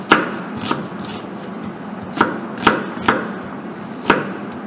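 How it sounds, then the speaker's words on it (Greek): A knife finely chops red onion on a board, producing a handful of sharp, separate knocks at an uneven pace over a quiet background. "Και τώρα θα ψιλοκόψουμε και το κρεμμύδι."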